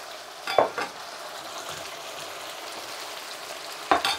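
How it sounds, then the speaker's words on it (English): Shredded crispy chilli beef frying in a pan gives a steady, close sizzle throughout, with two brief louder bursts of spattering or stirring near the start and the end. "It's starting to sizzle now."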